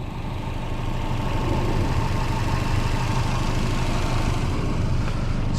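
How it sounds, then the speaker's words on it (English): 2005 Subaru Outback 2.5 XT turbo boxer engine idling close by, a steady low burbling rumble that firms up slightly after the first second and then holds even, with no voices. "So here we got Subaru's Boxer engine."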